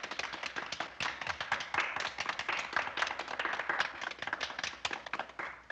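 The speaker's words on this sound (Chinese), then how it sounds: "我们鼓掌表示欢迎" A classroom in a rural primary school applauding to welcome a new teacher, many hands clapping quickly and unevenly at a steady level the whole time.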